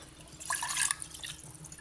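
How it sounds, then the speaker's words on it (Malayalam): A short splash of water pours into a container, a brief bright gush that fades quickly. "ഞാനിതിലൊത്തിരി വെള്ളം ഒഴിച്ചൊന്ന് കറക്കി അങ്ങോട്ട്"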